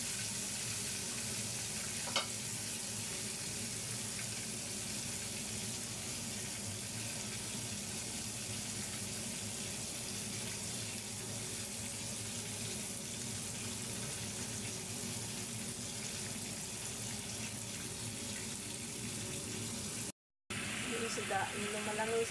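Fish coated in flour and spices fries in hot oil, a steady dense crackling sizzle running throughout at moderate level, with faint background talk.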